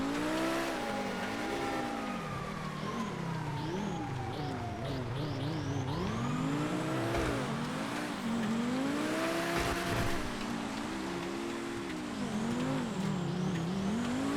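A drag car in GTA FiveM, the Vaca drag, roars with its engine rising and falling in sweeping revs and shifts, tyres squealing over a steady loud drone throughout.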